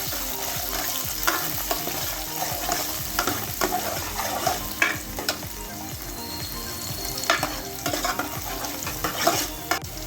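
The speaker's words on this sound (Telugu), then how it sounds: "వీటిని ఒక 2 నిమిషాలు ఆయిల్లో ఫ్రై చేద్దాం." Sliced onions and split green chillies fry in hot oil for a gongura dish, with a busy crackling sizzle and constant clattering stirring strokes close up, no voices present.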